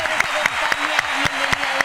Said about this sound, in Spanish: Nos vamos a hacer con un fuerte aplauso.